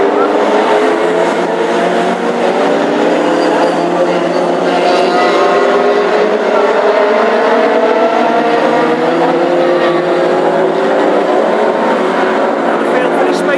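Classic hot rod race cars roar around the Hednesford track in a final, producing a loud, continuous engine drone with rising and falling pitch as they pass, under a commentator speaking.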